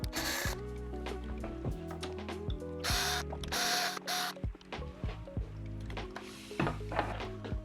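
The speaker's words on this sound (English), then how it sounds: "I'm just gonna put the smaller screws back in." Screws go back into an Inmotion V14 electric unicycle with quick ratcheting clicks from a hand tool and small metallic ticks and rattles. The sounds are close and fairly quiet, with no talking.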